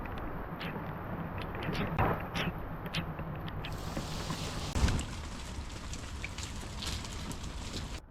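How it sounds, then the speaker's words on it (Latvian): Warm summer rain falls over a small river, a steady soft hiss and patter throughout with a brief heavier splash partway through. "Tas vitīgais vasaras lietiņš silts."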